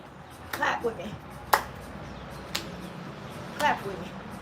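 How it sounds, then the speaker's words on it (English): Hands clap during a home workout: four sharp, crisp claps spaced roughly a second apart, close and clear over a quiet room with faint voice in the background. "Clap with me."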